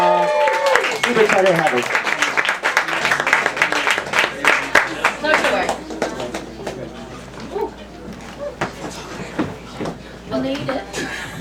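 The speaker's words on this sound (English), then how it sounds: "Let's have a big round of applause." Audience clapping and cheering for a poet at an open mic night, louder at first then thinning into scattered claps, with a host speaking over the start.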